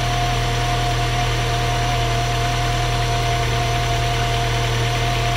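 A Seat Cordoba 1.6 engine idles steadily up close after a head gasket replacement, with a rhythmic puffing tick from an exhaust leak between the manifold and pipe riding on the constant hum.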